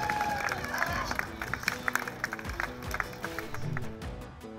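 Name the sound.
crowd cheering at the finish line of a women's cycling race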